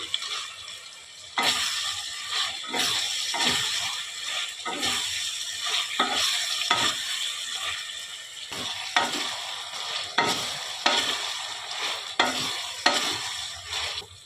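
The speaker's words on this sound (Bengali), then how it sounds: "এবারে আমি চিকেন যে ভেজে রেখেছিলাম এগুলো দিয়ে দিলাম।" Pre-fried chicken pieces are tipped into a pan of gravy chili chicken and stirred, producing a steady sizzle punctuated by repeated rhythmic spatula scrapes and pushes, close-up and with no speech.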